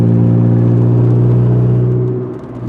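A Honda CRX/Civic with an STS turbo exhaust setup drones steadily and loudly under acceleration on the street, a constant low rumbling hum with layered harmonics that eases slightly near the end, with no talking.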